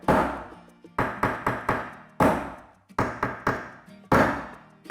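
Sharp wooden knocks from a mallet striking dowels, in quick bursts of several hits separated by brief pauses, close and loud.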